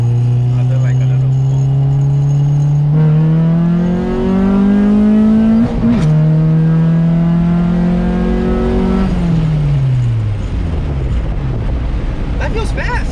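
A 1994 Acura Integra RS with a non-VTEC engine revs loudly and repeatedly, its engine note climbing and falling through the gears, with wind rushing past and people talking over it.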